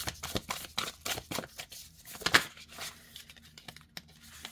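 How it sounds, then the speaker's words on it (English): Tarot cards are shuffled overhand in a quick series of soft, papery slaps and riffling flicks, close and fairly quiet, with no talking. "And overhand shuffling is great too."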